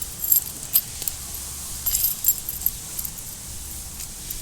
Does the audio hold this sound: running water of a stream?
no